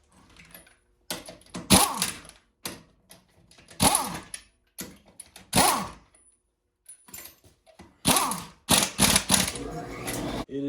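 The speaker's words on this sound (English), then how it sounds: "I was able to get this lower control arm set in. I'm going to go ahead and tighten it" Lower control arm bolts on a Jeep Cherokee XJ are tightened with a ratchet or impact tool during a lift kit install, coming as close, loud bursts of clicking and rattling separated by brief silences.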